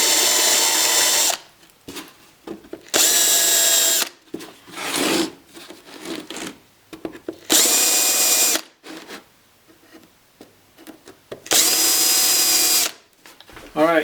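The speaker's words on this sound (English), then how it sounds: "you drill through and then just keep going" A power drill bores through a trailer door panel during a pass-through install, several loud whirring bursts of a few seconds each separated by short pauses and quieter handling noise, close by with no talk.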